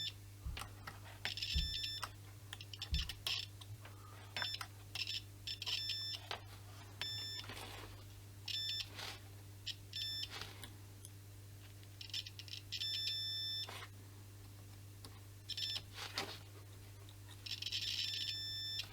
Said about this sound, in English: continuity mode means we put these together and we get a beep